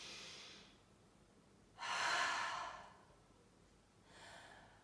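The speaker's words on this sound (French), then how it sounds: "Et en yoga, c'est exactement ce qu'on fait pour produire le son de Ujjayi." Ujjayi yoga breathing with the back of the throat slightly constricted: three close, soft, hissing breaths, the middle one longest and loudest, with quiet pauses between them.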